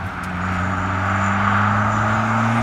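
Modified turbocharged Mazda MX-5 driving on track at Castle Combe, a steady loud engine drone holding close and rising slightly as it runs, with no talk.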